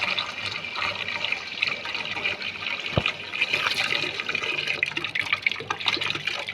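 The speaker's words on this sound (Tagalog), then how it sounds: "lalagyan na natin ng tubig para mahugasan na natin" Water running steadily into a container to wash freshly harvested dates, a continuous close splashing and gushing with a single sharp knock partway through.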